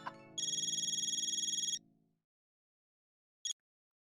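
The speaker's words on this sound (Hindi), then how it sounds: "महेश भाई को फोन करके बोल दूं ना कि पैसों की व्यवस्था हो गई है।" A telephone ringtone on an outgoing call rings steadily for about a second and a half, a rapid warbling electronic tone over a low hum, then stops, followed by silence and one short electronic beep.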